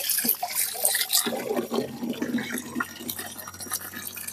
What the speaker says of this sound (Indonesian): Ini airnya kurang laju, saya buka dikit. Nah, lebih laju airnya.